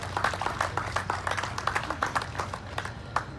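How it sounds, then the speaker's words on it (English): A small crowd at the opening of the Brundage Lane Navigation Center claps for the County of Kern, a modest, fairly quiet patter of individual hand claps with distinct separate beats. "Let's give them a big round of applause as well."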